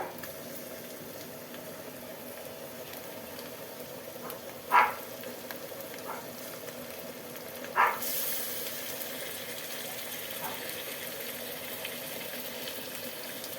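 Korameenu fish pieces fry in oil in a pan for a curry, giving a soft, steady hiss. Two sharp clacks sound as pieces are set down, and the sizzle rises slightly afterward.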